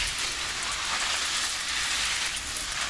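A steady, dense hiss of water spraying onto the soil and plants of a raised garden bed runs unbroken and close, with no talking over it.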